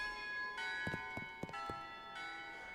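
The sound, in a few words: cathedral bells ringing, from the video game Shadows Over Loathing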